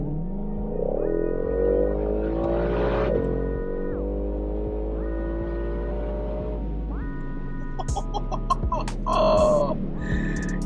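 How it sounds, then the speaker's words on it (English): A Shelby GT500 accelerating hard from inside the cabin, its engine note rising in several long climbing sweeps between gear shifts, a loud steady drone with a brief low voice near the end. "I'm gonna give it a little punch."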